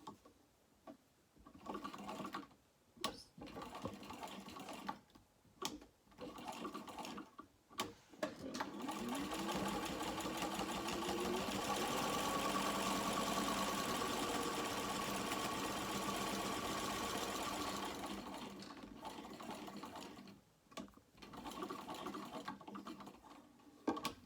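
A sewing machine stitches the sides of a small crossbody bag: short stop-start bursts at first, then one long sustained run in the middle, then more brief bursts, all close and clear.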